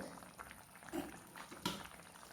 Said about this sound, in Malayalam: ഇതാ നമ്മുടെ അരപ്പൊക്കെ തിളച്ച് വന്നിട്ടുണ്ട്